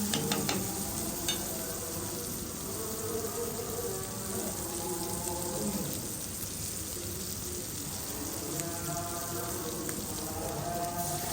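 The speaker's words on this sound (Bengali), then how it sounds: "গোলমরিচগুলো দিয়ে তেলের সাথে আবার ভালোভাবে ভেজে নিব।" Meat frying in oil with ground black pepper while being stirred, a steady close sizzle with scraping stir strokes throughout, part of a restaurant-style mixed chow mein preparation.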